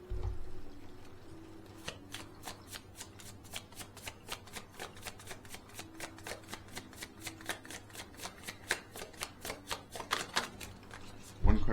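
Tarot deck being riffle-shuffled, a long run of quick, evenly spaced card snaps close to the ear with a soft voice talking faintly underneath.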